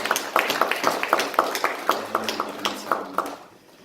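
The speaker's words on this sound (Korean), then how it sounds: "박수로 하나님께 영광을 돌리시겠습니다." A church congregation claps together at a Sunday worship service, sharp unison claps in a regular rhythm about every quarter second over a background of scattered hand claps, tapering off at the end, with no speech.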